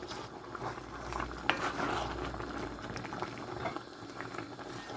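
Ogbono and okra soup, made with spinach and stuffed fish, boils steadily in a pot on the stove, giving a continuous bubbling simmer with a single sharp clink near the start and no talking.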